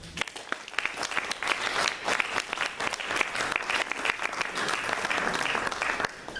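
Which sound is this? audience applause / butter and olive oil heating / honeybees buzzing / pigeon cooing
audience applause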